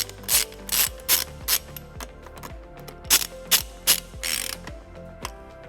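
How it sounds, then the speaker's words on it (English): Ratchet with a 10mm socket tightening a screw during a 2015 Toyota RAV4 trailer wiring harness installation, a series of close, crisp clicking bursts in quick uneven strokes with short pauses between them. "then we'll tighten it using a 10mm socket"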